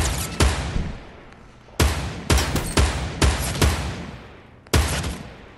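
Rapid bursts of gunfire in the Fortnite video game crack out loud and close, several volleys of shots separated by brief gaps, with no talking over them.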